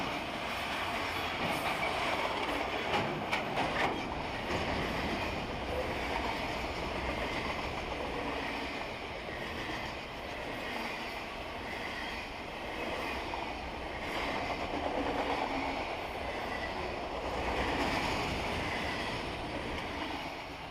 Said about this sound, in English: P12 is an all-auto rack train which brings new Toyotas to the distribution center at Commerce,